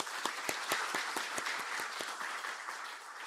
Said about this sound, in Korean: 우리 박수로 환영하시도록 하겠습니다.